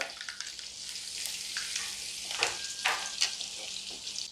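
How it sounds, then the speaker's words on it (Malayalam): Dried red chillies sizzling in hot oil, a steady crackle with sharper pops and occasional stirring scrapes, close by. "ഇതിലേക്ക് രണ്ട് ഉണക്കമുളക് ഇട്ട് കൊടുക്കാം"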